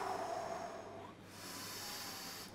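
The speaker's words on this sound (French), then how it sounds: "Expirez." A person breathes out slowly during a breathing exercise, making a soft, close airy exhale with a faint hiss that trails off into quiet room tone.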